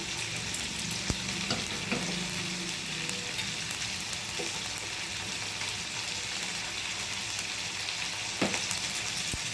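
Cumin and coriander seeds lightly roast in a pan for a ridge gourd chutney, giving a dense, even crackle and sizzle with a few soft taps of a stirring spoon.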